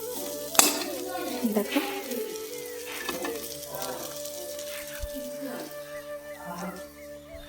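Cauliflower frying in a pan gives a soft sizzle, with occasional utensil scrapes and clinks, under someone talking close by.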